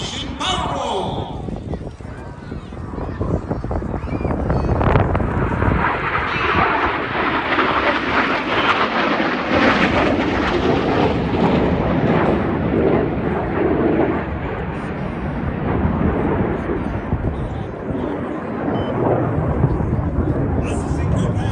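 Red Arrows jets roaring through an opposition barrel roll at an air festival display, a loud sustained rushing jet noise that swells and fades while a commentator talks over the flypast.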